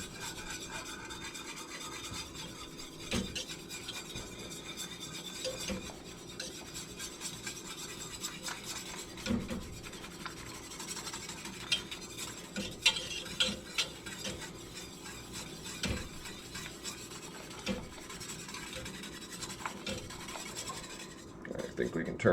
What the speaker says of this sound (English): I'm going to whisk that